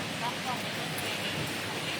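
Rain falls around a rural Thai home at about five in the morning, a steady, soft hiss of drops on surfaces, heard at a moderate distance with no breaks.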